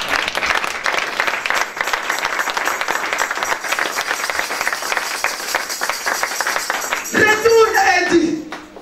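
A church congregation applauds God with loud, dense, continuous clapping, and voices rise over the applause toward the end.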